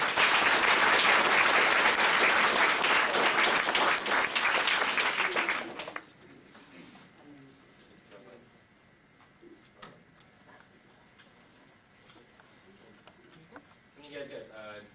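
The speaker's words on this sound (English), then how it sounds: "give him a round of applause" An audience at an Earth Day speech showcase gives a round of applause for a student speaker, loud dense clapping for about six seconds that stops abruptly, leaving a quiet room with faint murmurs and scattered small sounds.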